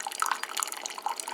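A Keurig coffee maker drips and trickles liquid while running a vinegar descaling cycle, a close, steady patter of drops and small splashes over a brief stretch.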